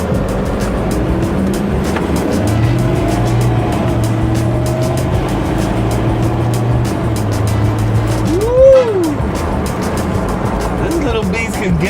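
Engine of a 2014 Ford Ranger Wildtrak pickup truck droning from inside the cab under hard acceleration, with a steady loud rumble, rising tone and a brief whine of shifting, while someone talks over it.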